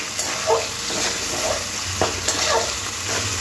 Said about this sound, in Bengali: টমেটোটাও ভালো করে মশলার সাথে খুব ভালো করে কষে নিতে হবে